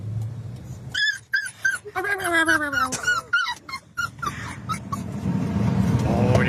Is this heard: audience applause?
no